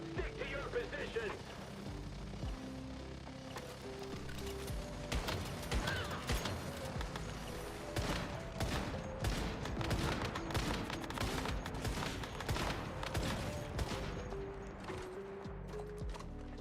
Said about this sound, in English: I like how strong the turret is.